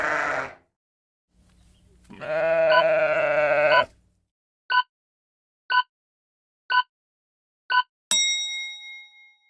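A sheep bleats in a short cry, then in a longer wavering one, followed by four evenly spaced quiz beeps and a bright ringing chime.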